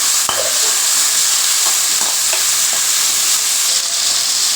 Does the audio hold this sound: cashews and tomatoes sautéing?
yes